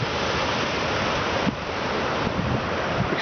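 Floodwater pours over a low water crossing near Rumley, Texas after heavy rain, a continuous broad rushing roar heard outdoors with some wind buffeting on the microphone.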